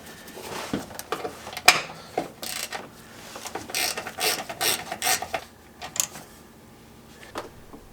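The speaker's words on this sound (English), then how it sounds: "let's remove that 12 millimeter bolt" A ratchet wrench removing a 12 mm bolt that holds a fuel line mount to the body of a Toyota Land Cruiser 80 Series: bursts of quick clicking ratchet strokes, near and fairly quiet, with short pauses between turns.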